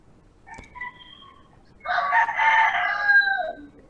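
At a darts tournament, a voice imitates a rooster, opening with short chirpy calls and then letting out one loud, drawn-out cock-a-doodle-doo crow that fades out near the end.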